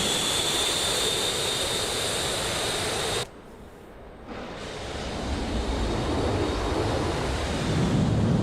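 Jet aircraft roar on a busy aircraft carrier flight deck in a Hornet carrier-operations flight game: a loud, steady engine rumble that cuts out briefly, then returns and gradually swells.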